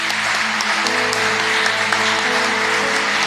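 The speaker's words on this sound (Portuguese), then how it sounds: "Vamos aplaudir o nosso Deus Todo-Poderoso." A church congregation applauds steadily in a hall, dense continuous clapping, loud and close.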